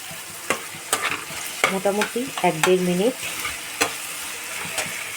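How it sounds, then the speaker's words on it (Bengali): Poppy seeds frying in oil on low heat while being stirred, with a steady sizzle and repeated sharp spatula scrapes, and a person talking briefly in the middle. "এখন পোস্তটা একটু আঁচ কমিয়েই কিন্তু আমি ভেজে নিচ্ছি।"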